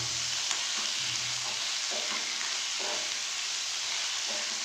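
Slit green and red chilies with garlic paste and ginger paste fry in a pan, giving a dense, even sizzle with soft stirring knocks scattered through the few seconds.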